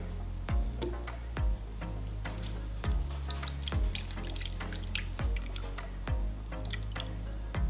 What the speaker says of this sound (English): I think I'm gonna pour a little more in here.